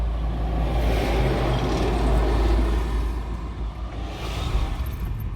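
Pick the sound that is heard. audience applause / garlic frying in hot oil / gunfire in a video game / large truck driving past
large truck driving past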